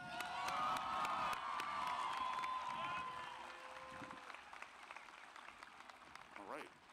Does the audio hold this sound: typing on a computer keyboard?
no